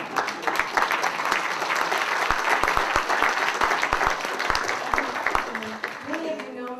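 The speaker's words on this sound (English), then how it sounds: "So I'm going to give you a round of applause." An audience at a public engagement talk breaks into applause, dense, close clapping that holds steady for several seconds before thinning out and fading near the end.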